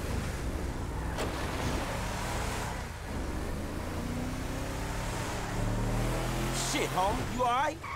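A car engine runs in the video game Grand Theft Auto V, a low, steady drone that grows louder and revs up near the end, with someone talking over it.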